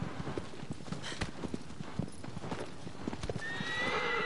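A horse in the video game Shadow of the Colossus gallops with rapid, rhythmic clip-clop hoofbeats, then lets out a clear whinny near the end, fairly close and unaccompanied by speech.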